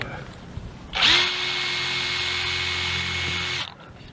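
A power drill drives a screw into an eave during rain-leak repair on a tile-clad exterior wall. It gives one sustained, loud, close whine of about two and a half seconds with a brief rev at the start, then cuts off.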